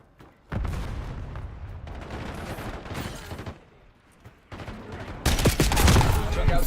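Shooter video game combat with loud, dense gunfire in bursts: rapid automatic shots and heavy booms, one short lull, then an even louder barrage, with radio-style voices mixed in.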